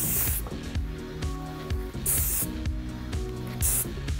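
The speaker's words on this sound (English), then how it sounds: "spray directly onto the hairline" Three bursts of JOICO aerosol hairspray hiss onto a hairline, each under a second, over steady background music.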